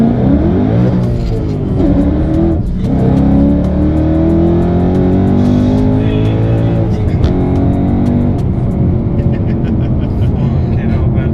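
A 1000bhp Ford Mustang accelerates hard on the road, its loud engine note climbing steadily through the gears with a brief drop between shifts, close and continuous throughout, with people talking over it.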